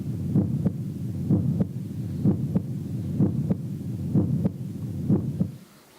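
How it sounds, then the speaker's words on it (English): Recorded heartbeat sound played through a Sound Oasis BST-400 stereo Bluetooth speaker, a steady, soft, muffled double thump repeating about once a second over a low hiss. "Heartbeat."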